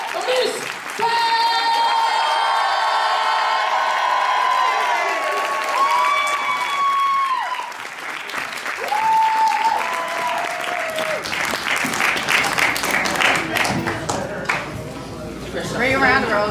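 A party crowd claps and cheers for Miss Patdown, sustained applause rising and thinning over several seconds while voices and shouts mix in throughout.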